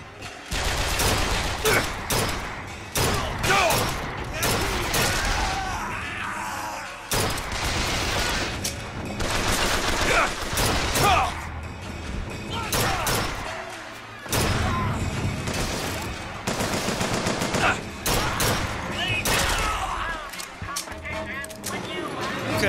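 Rapid bursts of carbine gunfire in the video game BioShock Infinite crack repeatedly at close range, mixed with impacts and explosions, while a player talks over the fighting.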